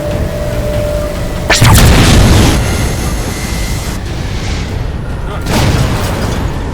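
A heavy explosion booms as the Mammoth, a huge armored vehicle in the Halo 4 video game, takes a hit. One loud, broad blast erupts and then rumbles away, and a second, softer boom follows a few seconds later over a constant battle drone.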